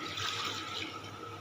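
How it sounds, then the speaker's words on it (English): Distilled water pours steadily into a 500 ml measuring cylinder in a lab, a continuous close, soft gurgling trickle with a faint hum underneath. "In the first lot, I'm taking 500 ml of distilled water. I'm pouring this here."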